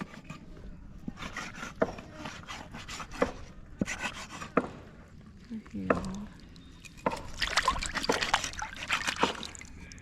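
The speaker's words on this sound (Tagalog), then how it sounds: "Babanlawan pa rin namin ito ng tubig na kamising." Tuna for a coconut-milk paksiw is rinsed in water with trickling, splashing and handling clatter, close by. Intermittent knocks are heard and the bursts of water grow stronger toward the end.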